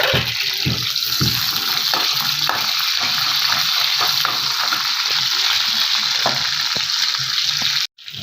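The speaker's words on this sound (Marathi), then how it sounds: "आता याच तेलामध्ये तुम्हाला मी भाजी करून दाखवणार आहे। हा कांदा आहे, एक कापून घेतलेला आहे," Chopped onion sizzles and crackles steadily in hot oil in a pan, a loud, continuous frying hiss with scattered pops and stirring clatter, ending in a brief cutoff.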